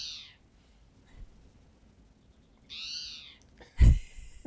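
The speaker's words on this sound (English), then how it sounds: "we'd hear the towhee, and I'm gonna play it because it was so like jarring" A spotted towhee's call played back from a recording: two harsh, rising buzzy notes a few seconds apart, followed by a sharp loud knock, against a quiet background.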